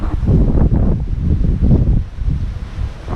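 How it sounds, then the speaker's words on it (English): Strong gusts buffet the microphone at a campsite in the Lake Mead recreation area, coming in rough, low, rumbling surges that rise and fall, loud and close, with no talking. "It is so windy here."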